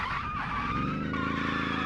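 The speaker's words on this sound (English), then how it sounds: "It doesn't drift very well, though." Tires skid loudly and steadily as a car drifts in the driving game Automation, with the engine droning underneath the squeal and no talking.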